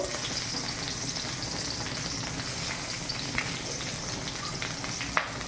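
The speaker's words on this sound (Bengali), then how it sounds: "তেলের উপরে একটু রসুন দিয়ে দেবো" Garlic frying in oil with green chillies in a pan, an even close sizzling hiss with faint crackles and a single sharp tap near the end, no voices.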